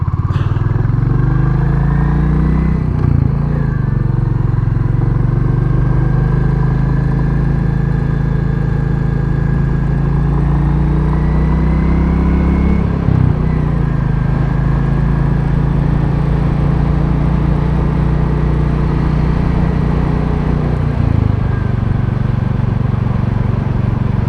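A Royal Enfield Classic 350 motorcycle engine running while riding on a road, giving a continuous close-up thumping drone at an even pace with a few brief dips in revs.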